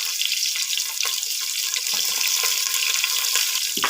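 Mustard seeds, cumin, a dried red chilli, onion and curry leaves frying in hot oil for a Karnataka-style dal sambar, a continuous crackling sizzle with small pops and faint stirring, no talk.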